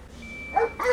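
A police K9 dog gives two quick, short yips or barks close by within under a second.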